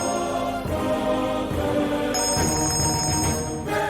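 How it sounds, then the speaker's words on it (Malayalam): Telephone bell ringing indoors, a steady trilling ring that continues for several seconds over a faint background hum. "ഇവിടെ ഫോൺ ബെല്ലടിക്കുന്നില്ലേ?"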